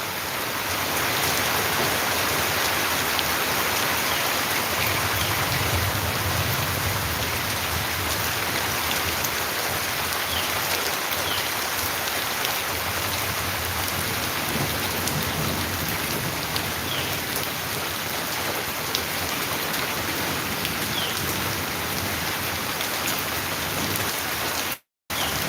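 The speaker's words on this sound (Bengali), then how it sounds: "সেহরির পরপর যে বৃষ্টির সাথে প্রচুর পরিমাণ পাথর ছিল।" Heavy rain mixed with hailstones pours down in Sylhet shortly after the pre-dawn meal, a dense, steady hiss and patter on surfaces lasting throughout with no voices, cutting off abruptly at the very end.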